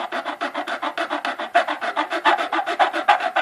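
A hand file rasps back and forth against a plastic part from a 1:48 scale Monogram F-4C Phantom model kit, in steady, close, rhythmic strokes of about four per second with no talking.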